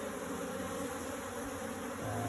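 A steady, droning buzz of many African honeybees swarming around a box fills the air continuously, close and constant, with a slight shift in pitch near the end.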